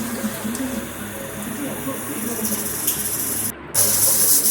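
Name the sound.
steam hissing from a pressure cooker cooking mutton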